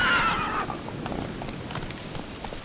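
Roach, a horse in The Witcher, lets out a loud neigh over steady clip-clopping hooves and rushing ambient noise.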